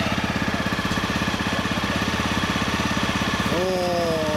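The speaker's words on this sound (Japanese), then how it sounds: "エンジンスタート。" A 2017 Honda CRF250 Rally motorcycle engine idles with a steady, rapid single-cylinder throb, close and loud. Near the end a rising whine enters briefly as the revs climb.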